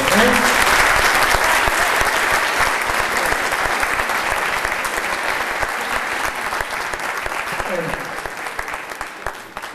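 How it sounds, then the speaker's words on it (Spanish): A room full of people claps loudly and steadily for several seconds, the applause gradually thinning toward the end. "yo quisiera pedir un aplauso entonces para todos."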